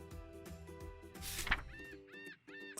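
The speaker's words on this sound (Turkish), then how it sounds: "martı sesleriyle birden uyandı" Seagull-like cries in a children's story scene at the seaside, several short harmonic calls repeating in quick bursts over a busy layered background with a brief loud swell midway.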